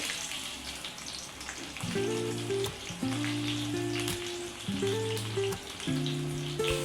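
Mustard seeds and green chillies sizzle in hot oil in a kadhai while dhokla tempering is made, a steady close frying crackle under a run of musical tones, with no talking.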